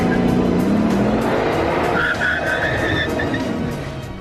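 A Bugatti Veyron brakes hard from high speed, its tires squealing loudly in a sustained screech that rises in pitch midway and then fades as the car slows to a stop.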